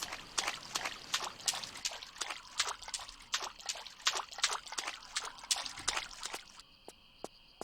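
Waterfall in a Tomb Raider level editor jungle ruins game, a steady splashing trickle with rapid bright droplet bursts, fairly close, ending abruptly into a quieter tonal hum.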